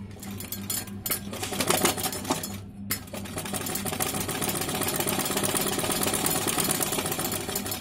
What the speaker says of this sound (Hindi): सीधी साइड से रख के ऐसे सिलाई लगानी है